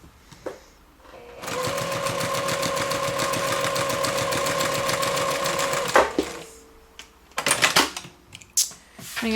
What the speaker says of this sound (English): I'm just going to go ahead and sew these down with 1/8 inch seam allowance